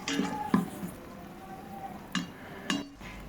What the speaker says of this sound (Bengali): এরপর আমরা এর মধ্যে কিছু জিরা, দারচিনি এগুলো দিয়ে ভালো করে কষিয়ে নিচ্ছি।